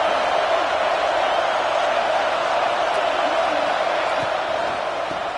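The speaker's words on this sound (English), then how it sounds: "This offense trying to quieten the crowd on first and goal, and they are not cooperating." Roaring crowd in a packed college football stadium, Rutgers against Oregon, a loud, dense and unbroken wall of noise holding steady throughout with no breaks.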